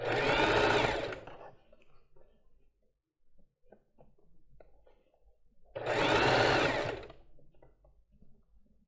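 A sewing machine stitches the edge of a lace bra in two loud bursts of rapid whirring, each about a second long, separated by quiet handling and faint rustles.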